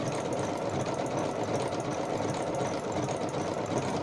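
Sewing machine running a pre-programmed stitch at moderate speed, giving a steady, continuous mechanical whir and hum at close range with no talking.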